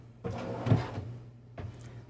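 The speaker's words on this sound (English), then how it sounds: "they're full length drawers, so drawers do extend the whole way" A full-length drawer in a 2023 Newmar Ventana 3709 motorhome slides out with a close rolling rumble and a soft knock at the end of travel, followed by a brief second bump.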